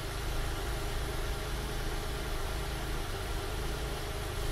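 Honda/Acura car engine idling while warming up during an oxygen sensor slow-response check, a steady low hum with no voices.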